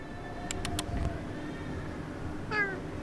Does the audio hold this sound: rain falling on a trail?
no